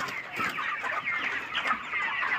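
Chickens cluck steadily in a rooftop poultry farm holding about 7000 birds, a dense flock murmuring together with overlapping soft calls, moderately close and continuous, with no voices.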